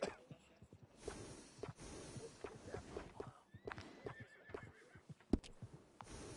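A horse in Red Dead Redemption 2 whinnies and snorts among quiet hoof clip-clops, with several distinct neighs and shorter snorts spread across a calm, fairly faint scene.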